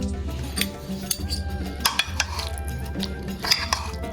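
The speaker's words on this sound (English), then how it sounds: "Give that a good mix it all together." Utensils stirring and scraping through a bowl of vegan, gluten-free Turkish pasta with a meat-like sauce, close clinks and wet mixing in irregular strokes, with no talk over it.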